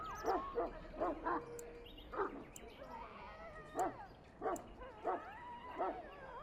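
A Mabari war hound from the fantasy role-playing game Dragon Age: Origins barks in a series of sharp, evenly spaced yips and woofs, roughly six bursts over a few seconds, moderately loud against a quiet game ambience.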